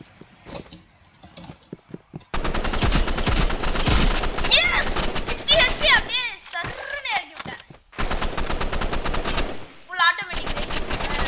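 Rapid bursts of gunfire in the shooter video game Rivals, loud automatic volleys in several clusters with short gaps between them, while a player talks over parts of it.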